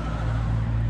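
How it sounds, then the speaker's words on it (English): A car passes close by outdoors, a steady broadband rumble with a low engine hum that holds even for the whole brief moment, with no voices over it. "a car is passing by"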